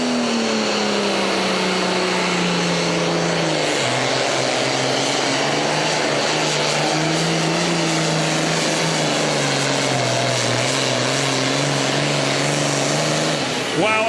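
Super farm tractor roaring at full power during a tractor pull in Hillsboro, Wisconsin, a loud sustained engine drone whose pitch sags and climbs as the machine works, with an announcer talking over it throughout.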